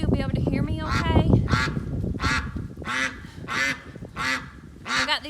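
Loud homestead ducks quack repeatedly from their coop in an irregular series of harsh honking calls, close by, with some speech mixed in at the start.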